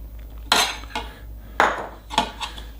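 Bacon bits are stirred into potato salad in a bowl: a utensil clinks and scrapes against the dish in four or five distinct, close strokes, with quiet pauses between them.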